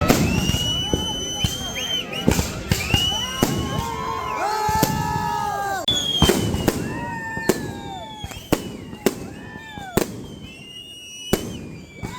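Firecrackers and fireworks burst on a road during a temple festival, a rapid barrage of loud, sharp bangs and crackles with whistling streaks between them, close and continuous throughout.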